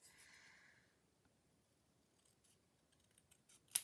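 A pair of scissors snips labels close by, a short rasping cut at the start followed by quiet, then a sharp metallic snap at the end.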